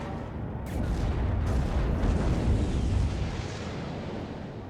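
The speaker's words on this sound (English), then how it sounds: "But at least we have some artillery coming in too." Artillery fire in the Cold War strategy game WARNO, a rolling series of heavy explosions and booms that swell and sustain for a few seconds, then taper off.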